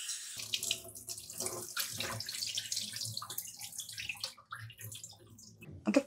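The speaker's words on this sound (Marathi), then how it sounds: "भरपूर पाणी सोडायचं आणि 2 ते 3 वेळा पाण्यामध्ये स्वच्छ हे धुवून घेणं अगदी गरजेचं आहे." Wheat grains are washed under running water: a tap flows into a vessel with sloshing and rinsing bursts, gurgles and drips, fairly close, with no speech.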